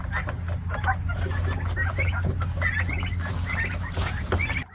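Turkeys out on pasture in a turkey tractor keep up a steady chorus of short clucks and chirps from several birds close by, over a constant low hum.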